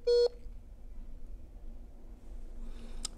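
Telephone dialing beeps while calling back a remote guest on a broadcast programme, one loud short tone near the start, then faint line noise and a brief click at the end.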